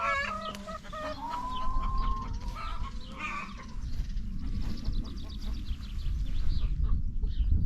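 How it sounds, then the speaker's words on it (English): Chickens cluck and squawk in a series of short, rapid calls close by on a countryside walk around Tideswell, over outdoor rustle and background noise. "See you later, chicken."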